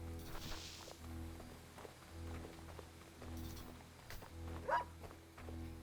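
A dog moves through the quiet game world of Sword & Sworcery EP, with soft repeated footstep-like steps and faint animal sounds over a low, steady musical drone. Everything stays very quiet, with no voices.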